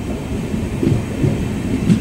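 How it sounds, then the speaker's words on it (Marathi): Matsyagandha Express pulling away from Kankavli railway station, a low continuous rumble of the train with soft rhythmic clunks at moderate distance and no talk. "आणि गाडी सुटली आता कणकवलीवरनं"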